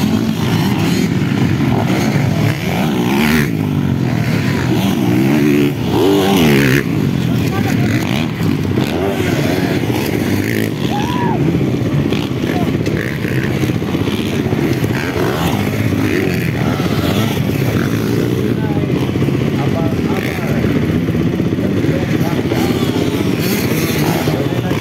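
Motocross motorcycles racing in a novice category final at a Sumilao, Bukidnon competition, engines droning and revving continuously and loudly, with a crowd and an announcer talking over them.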